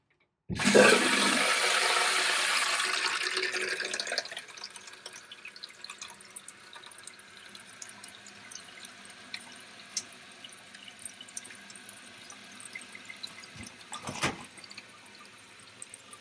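A toilet flushes with a loud rushing gush for about four seconds, then the tank refills with a steady quieter hiss and trickle and occasional drips and clunks, close up in a quiet room.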